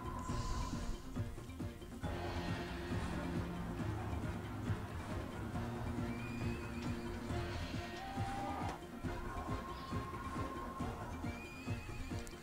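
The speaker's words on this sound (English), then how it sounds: "Horses are taking a beating, they are running away." Horses in the video game Chariots of War whinny and neigh repeatedly amid battle noise, with hoof clatter and a continuous busy rumble underneath.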